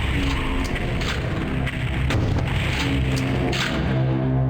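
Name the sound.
rocket launcher firing and exploding in PlayStation Doom video game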